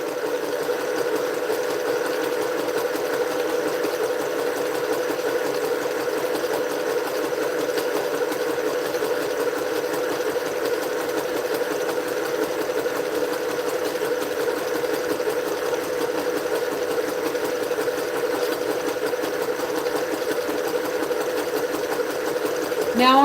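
A sewing machine runs steadily while a quilt top is being assembled, its even mechanical hum and rapid stitching rhythm continuing without a break, close and fairly loud, with a slight change right at the end.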